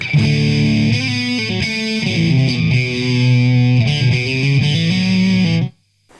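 Loud distorted Les Paul electric guitar through a TC Electronic Dark Matter distortion pedal playing chords and riffs, thick and saturated, cutting off abruptly near the end.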